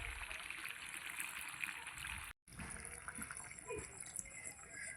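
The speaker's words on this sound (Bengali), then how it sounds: "এবার আমি জল দিয়ে দেবো এবার জল দিয়ে দিচ্ছি" Water pours into a pan of cooking meat curry, a close trickling and splashing stream that breaks off briefly midway, then resumes with sizzling and small splatters.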